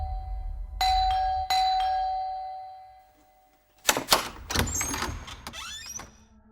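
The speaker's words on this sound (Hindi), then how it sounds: "कब से डोरबेल बज रहा है" A doorbell chimes twice in slow succession, bright tones ringing out and decaying, followed by clattering bumps and movement nearby.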